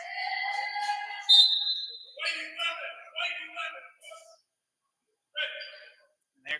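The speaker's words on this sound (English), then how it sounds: "the whistle is blown once again" A single short referee's whistle sounds at a ball game, shrill and slightly falling, amid a commentator's continuous play-by-play talk.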